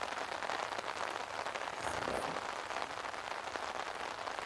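Rain falling steadily on a tent outside at night in a forest, a dense close patter of drops filling the whole stretch at a low, even level with no talking.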